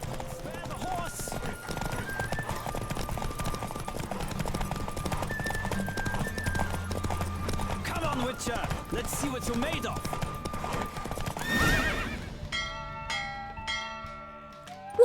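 Horses galloping in a race in The Witcher 3, steady clip-clop hooves under game music and rushing wind, with a rider shouting a challenge over the run and a bell-like chime near the end.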